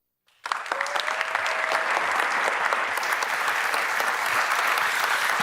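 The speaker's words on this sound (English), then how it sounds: "Another round of applause, please" Sustained audience applause at the Global Solutions Summit 2023, a dense, even burst of many hands clapping that starts abruptly after a brief silence and holds steady at full strength.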